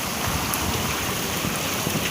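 Heavy rain mixed with hail pounds down in a dense, unbroken roar that stays loud and even throughout.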